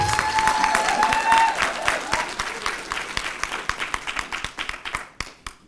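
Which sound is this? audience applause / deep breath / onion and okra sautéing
audience applause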